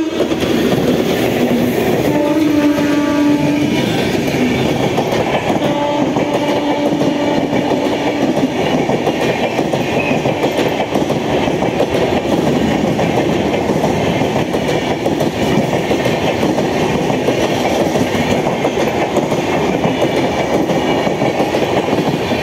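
The Howrah–Jabalpur Shaktipunj Express passes Liluah station with a loud, steady rumble and rail clatter throughout and a brief horn near the start.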